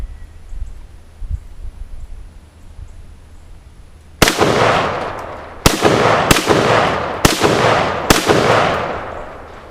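Five sharp, loud rifle shots from a 1953 Tula-built Russian SKS ring out outdoors at uneven intervals after a few seconds of quiet, each crack followed by a booming echo that decays before the next.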